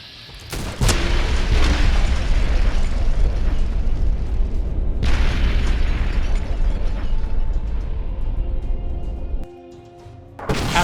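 Artillery strike explosions hit Nellis Air Force Base in Fallout: New Vegas, with one sharp blast followed by a long, loud, rumbling roar and a second burst midway. Mechanical game sounds clatter throughout, and the roar drops off sharply near the end.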